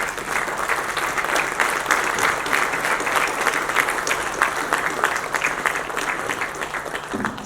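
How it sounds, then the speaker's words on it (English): A standing audience at a national congress applauds, a full and steady wash of many hands clapping that holds at even strength for several seconds with no voices over it. "I request all of you to kindly stand up and give the applause to all of them."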